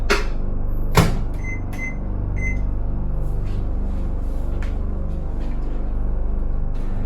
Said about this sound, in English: Let's get this into the microwave for about, let's try a minute 45.